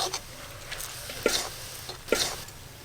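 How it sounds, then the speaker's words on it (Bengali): Carrots cooking in a pan as their released water is driven off, a soft sizzle under two or three scraping stirs spaced about a second apart, close but fairly quiet. "এই যে এইভাবে নেড়ে নেড়ে পুরো জলটাই শুকনো করে নেব।"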